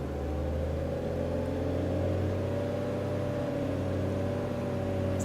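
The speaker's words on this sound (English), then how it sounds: "That's the right amount of revs." A car engine holds steady, moderate revs during a hill start on a driving lesson, a constant mid-pitched hum without talking over it.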